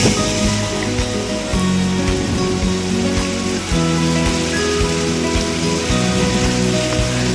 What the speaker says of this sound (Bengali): পেঁয়াজগুলো লাল লাল হওয়া পর্যন্ত ভাজবো।